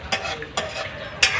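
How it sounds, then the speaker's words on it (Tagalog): Hot coconut oil bubbles and sizzles steadily in a pan while being made into homemade oil, with a few sharp stirring scrapes punctuating the crackle. "Kumukulo na po."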